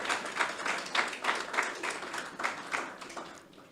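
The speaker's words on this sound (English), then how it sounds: "And let's give her another round of applause, please." An audience at a public health education event claps for a government minister, a brief burst of dense applause that holds steady and then tapers off near the end.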